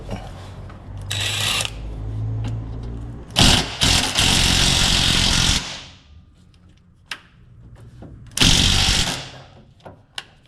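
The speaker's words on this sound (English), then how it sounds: "I'm just going to get an angle grinder in there and just cut that bolt off" An angle grinder cuts through a rusty bolt on an 80 Series build, coming in several loud harsh bursts of one to two seconds each, with quieter engine-like rumble and clanks in the gaps between them.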